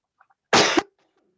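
A single loud, harsh cough burst close by, lasting about a third of a second, with faint small sounds before and after in an otherwise quiet setting.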